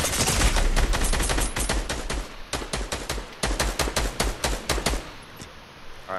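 Rapid bursts of video game gunfire crack loudly and close, one long automatic volley followed by shorter repeated strings of shots, without speech.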